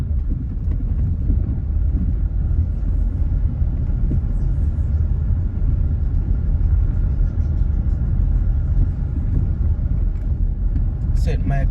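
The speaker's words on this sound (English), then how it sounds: "Let me let in some of the noise or the sounds from outside." Street traffic outside in Liguanea, Jamaica, before 7 a.m.: a continuous low rumble of passing cars and engines, steady and moderately loud, with some wind buffeting on the microphone.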